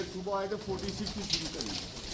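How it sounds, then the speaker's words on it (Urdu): Pigeons on a rooftop coo in soft, low, wavering calls, partly mixed with voices of people talking nearby. "آج یہ دیکھیں خاندانی کبوتر بیٹھے"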